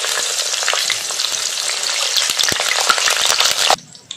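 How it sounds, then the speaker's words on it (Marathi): Green chilies frying in hot oil for vada pav give a steady, loud, close sizzle with faint stirring clatter, cutting off abruptly near the end. "हे बघा, अशा मिरच्या तळून घ्यायच्या आहेत."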